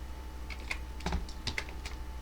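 Keys clatter on a computer keyboard in a short burst of quick, light taps at close range against a faint steady hum, with no voices.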